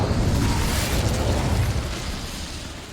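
The Incendio fire spell cast in Hogwarts Legacy gives a loud, whooshing burst of flame that rumbles and roars thickly for about three seconds, then tapers off slightly without fully dying away.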